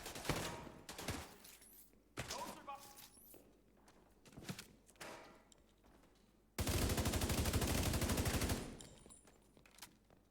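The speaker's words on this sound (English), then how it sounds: "I guess I'll shoot him again." Automatic gunfire in The Division 2, a third-person shooter, with scattered bursts of shots early on, then a loud sustained volley lasting about two seconds before it cuts off; game voices are heard between the bursts.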